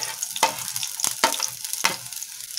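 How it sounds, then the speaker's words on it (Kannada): Carrots, beans, cabbage and onion stir-fried on high flame for restaurant-style veg fried rice: a hissing sizzle broken by four sharp spatula scrapes and tosses against the pan, close up with no talking. "ಹೈ ಫ್ಲೇಮಲ್ಲೇ ಇದನ್ನ ಫ್ರೈ ಮಾಡ್ಕೊಳ್ಬೇಕಾಗುತ್ತೆ"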